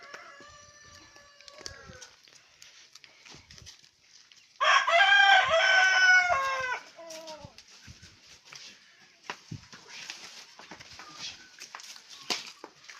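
A rooster lets out one loud, close cock-a-doodle-doo crow lasting about two seconds, with quieter clucks and scattered farmyard noises before and after.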